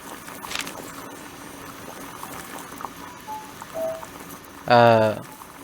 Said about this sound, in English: Just wait for the inevitable sound of the whistle of the old kettle.